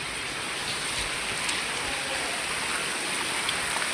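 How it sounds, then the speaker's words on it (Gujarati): Heavy rain pours down in a dense, steady hiss with scattered louder drops, continuous and close, with no one talking. "અને વરસાદ પડે છે અત્યારે ખતરનાક"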